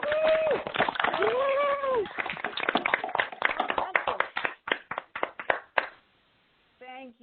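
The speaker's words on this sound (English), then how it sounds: "join me in a loud round of applause" Participants in an online advisory committee meeting clap over unmuted lines, scattered uneven claps mixed with voices talking, thinning to a few separate claps before a short silence and a voice at the end.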